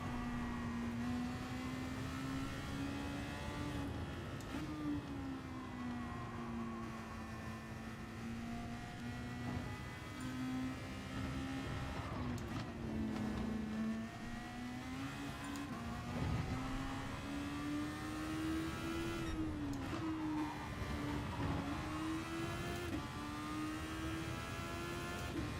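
Super Formula race car at Brands Hatch in a racing video game, with a steady engine drone that rises and falls through the gears over a long stretch and a few brief tyre or bump noises.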